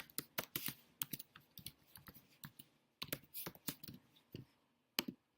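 Someone types a name on a computer keyboard in a quiet room: a quick, uneven run of sharp key clicks with short pauses between bursts.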